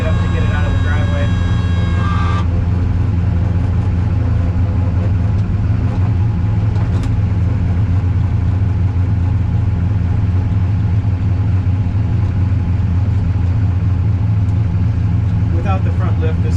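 A front lift system raises the nose of an SLC car, with a steady whining drone for about two seconds over the constant loud rumble of the idling engine, which continues after the whine stops.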